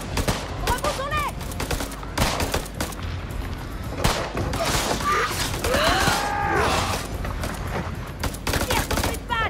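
Gunfire in the video game House of Ashes, dense bursts of rifle shots and booms crackling throughout, with shouted voices and creature shrieks mixed in.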